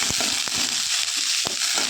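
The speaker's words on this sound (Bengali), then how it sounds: "কিশমিশটা দিয়ে ভালো করে নাড়াচাড়া করে ভেজে নেব।" Soaked cashews and raisins fry in ghee in a pan, a steady bright sizzle broken by a few sharp scraping knocks of the spoon as they are stirred, close and fairly loud.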